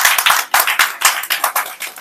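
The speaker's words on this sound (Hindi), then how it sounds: "तो एक बार जोरदार इसके लिए ताली हो जानी चाहिए।" Rhythmic group clapping at a seminar celebration, loud sharp claps coming in quick uneven bursts with short gaps, close and clear without talk.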